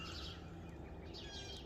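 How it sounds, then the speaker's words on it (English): Early-morning birds chirp and tweet in the distance, a scatter of faint high calls over a steady outdoor hum with no talking. "Birds are sure active this morning."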